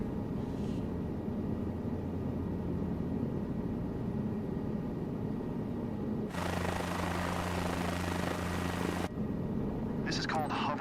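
Helicopter in a flight simulator game slowing to a hover at zero airspeed, a steady rotor and engine drone running throughout, with a brighter, harsher surge of noise for a few seconds in the middle and someone talking over it.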